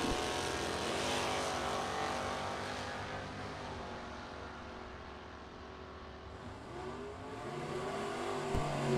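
Drag racing cars, including a Pontiac Firebird, accelerating at a bracket racing event, heard as a sustained engine roar with rising and falling pitch that fades slightly midway before building again, with no voices.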